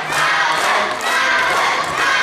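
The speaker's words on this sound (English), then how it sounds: "And now Shaun the Hammer Davis asking the crowd here in Denbigh to get behind him." A crowd at a British wrestling show in a hall in Denbigh cheers and roars steadily, loud and sustained throughout with only slight dips, with no talking over it.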